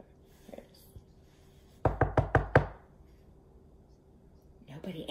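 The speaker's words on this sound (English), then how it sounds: "knocks on the door." Five quick knocks on a door in a steady rhythm, close and loud, set within a storytelling of a fairytale; a voice is heard briefly before and after.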